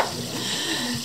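Carp frying in a pan outdoors at a lakeside cooking event, a steady close hiss and sizzle of oil with faint background bubbling throughout.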